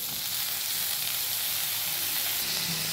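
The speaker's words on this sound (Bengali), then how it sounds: "এবারে ঝিঙে আর বেগুনটাও সবজির সঙ্গে একটু হালকা করে ভাজা হয়ে যায়।" Chopped ridge gourd and eggplant fry lightly with other vegetables in a pan, making a continuous, even sizzle and hiss that stays close and steady with no talking.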